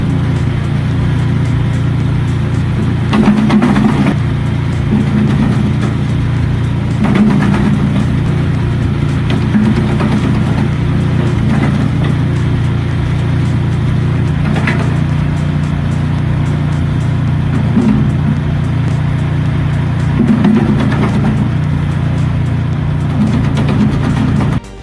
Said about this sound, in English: shredder tears through wood up to 120 millimeters thick without hesitation